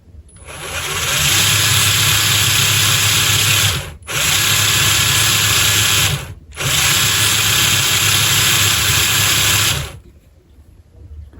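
An MN128 Rubicon RC car with an upgraded brushed motor runs at a loud, steady high-pitched whine, cutting out briefly twice before stopping near the end, with no talking.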